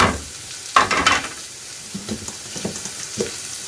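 Carrot and capsicum hit a hot pan for pasta and sizzle, a steady hiss with bursts of crackling as the vegetables are stirred, close and alone without voices.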